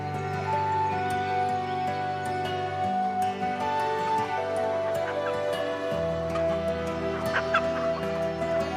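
Chickens cluck on a self-sufficient homestead farm that raises vegetables, eggs and poultry, several hens calling in overlapping bursts close by over a continuous low background hum, with no talk.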